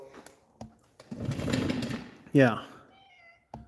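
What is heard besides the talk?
cat meowing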